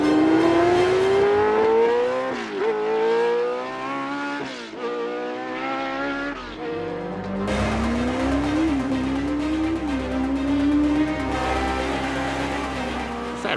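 A Formula 1 car engine revs sharply on the throttle, loud and close, climbing in pitch again and again with short drops between rising sweeps.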